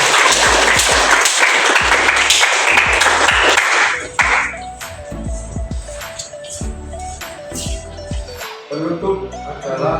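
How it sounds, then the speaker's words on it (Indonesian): A classroom of students claps together in dense, lively applause for about four seconds, then it thins out into quieter scattered sounds and a voice in the room. "Teman-teman beri tepuk tangan."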